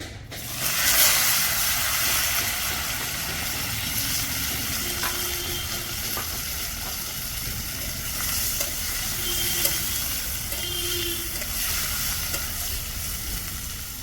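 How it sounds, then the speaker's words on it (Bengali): Mustard seeds frying in hot oil in a pan, a steady close sizzle with light crackles and occasional stirring, heard alone without talk, the oil being readied for a tomato-based sour fish curry. "এই যে তেলের মধ্যে এখন সর্ষে দিয়ে দিয়েছি"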